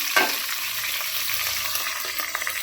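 Green and dry chillies fry in a pan of hot oil with a steady, close, fairly loud sizzle and light crackling throughout, no voices.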